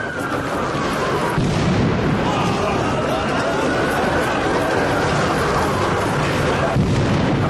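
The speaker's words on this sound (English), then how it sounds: "Large explosions." Continuous heavy rumbling blasts and booming, like distant explosions, at the U.S. Capitol, fill the clip with dense low noise and a crowd murmuring throughout.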